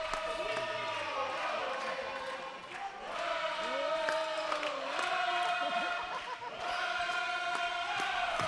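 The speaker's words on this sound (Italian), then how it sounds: "Accompagnati dai cori della tifoseria senorese inizia il quarto" Basketball fans of Sennori crowd an indoor arena, a continuous loud wall of cheering and chanting that swells and dips, with whoops and voices layered throughout during a game.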